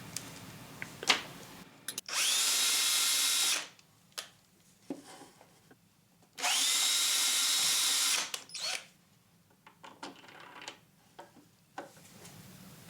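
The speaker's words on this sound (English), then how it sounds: "Use progressively larger drill bits until you have a 3/8 inch drill hole." A power drill whirs in two steady bursts of about two seconds each, drilling PVC with progressively larger bits, with clicks and handling knocks between them.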